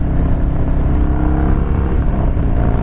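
A motorcycle on Shinko tires riding on a freeway, its engine droning loudly and steadily under heavy wind rush, close up with no voices.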